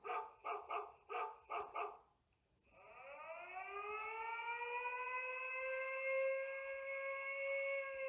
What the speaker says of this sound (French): sonnerie du chien